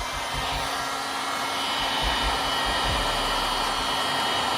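A heat gun blows hot air over vinyl wrap trim, a loud, steady, close rushing hiss with a faint motor whine, holding constant throughout with no voices.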